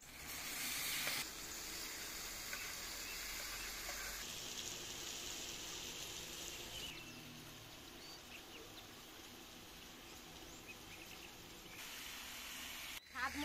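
Boiled taro leaves go into hot mustard-seasoned oil with turmeric for a Bengali hilsa-head dish, a soft, steady frying hiss with a few changes in level and a brief clatter near the end.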